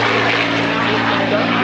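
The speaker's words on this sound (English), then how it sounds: "the P-51 Mustang you see up there had a top speed of 425 miles per hour" Continuous steady drone of a P-51 Mustang propeller fighter flying overhead at an airshow, loud and even throughout with no gaps.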